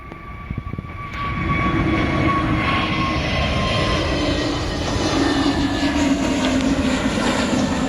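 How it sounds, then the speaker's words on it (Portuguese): Airplane engines roar during takeoff at São Luís, a loud, close, building rumble that swells after the first second and holds as a sustained throaty drone with a faint whine, alone without talk. "fiquem apreciando os sons dos motores"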